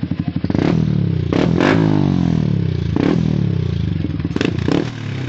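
A Yamaha R15 V3 motorcycle with a loud exhaust revs close by, its engine tone climbing and falling through several strong throttle blips with a rough, crackling edge.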